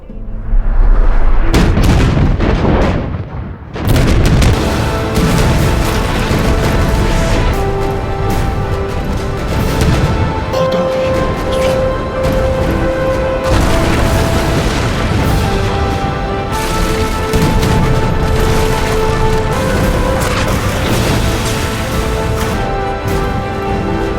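Loud booming volleys of cannon fire from a fleet of warships, a dense series of heavy blasts and rumbling bursts rolling one into another over about twenty seconds, with no voices.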